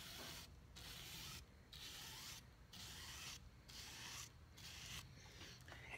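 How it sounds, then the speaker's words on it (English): A brush rubs sealant along a canoe spray skirt seam in repeated close strokes, a soft scratchy rasp broken by brief pauses over several seconds. "I'm just going to take a very small amount on the brush, and I'm just going to run it gently"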